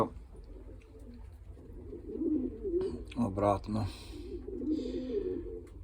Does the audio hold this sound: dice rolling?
no